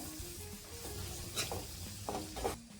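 Chicken masala fries softly in a pan, a quiet, steady sizzle with a few brief scraping stirs over a low hum.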